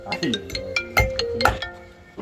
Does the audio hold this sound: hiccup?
no